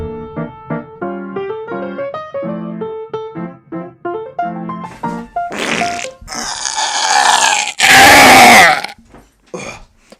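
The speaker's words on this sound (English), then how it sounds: "Sorry guys, I had to burp." A loud, raspy human burp follows a run of short, bright electronic musical tones. It comes as a few rough, gurgling bursts, close to the microphone, with no talking.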